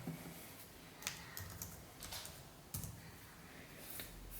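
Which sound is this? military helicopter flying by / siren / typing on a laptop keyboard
typing on a laptop keyboard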